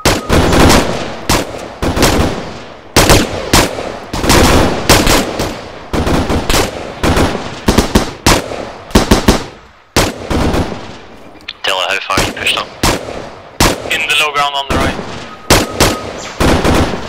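Heavy, sustained gunfire in a military video game, with loud, close bursts and rapid automatic fire repeating across the whole stretch, mixed with occasional radio-style voices.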